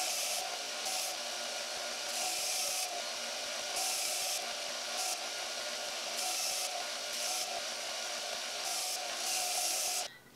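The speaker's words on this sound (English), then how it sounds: "now we'll just grind it down on the grinder" An angle grinder grinds down a built-up weld bead on a steel square head, giving a steady, loud, continuous whine with slight surges in pitch and no pauses until a sudden stop at the end.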